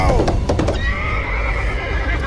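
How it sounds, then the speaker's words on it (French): A horse whinnies loudly in the horror video game Layers of Fear, a sharp, close neigh that trails off over about two seconds. "Un cheval!"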